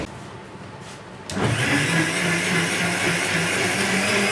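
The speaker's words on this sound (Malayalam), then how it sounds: "ഇനി നമുക്ക് ഈ മുറിച്ചെടുത്ത മാങ്ങയൊന്ന് നന്നായി അടിച്ചെടുക്കണം." A kitchen blender whirs up abruptly and runs at a steady, loud pitch while blending cut mango into pulp, with no talking.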